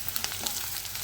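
Ginger garlic paste fries with spinach paste and onion-tomato paste in a pan for palak paneer, giving a steady soft sizzle with a few faint clicks, no voices.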